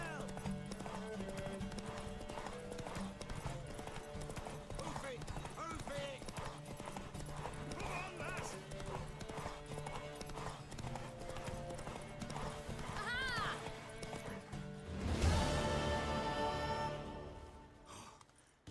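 Horse hooves clop rapidly in a steady galloping rhythm for a long stretch in The Witcher 3 video game, with a horse whinnying and voices heard over the hoofbeats.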